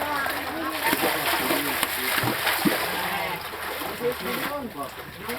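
Water splashing and sloshing continuously as waves are churned up, with voices talking and calling out over it.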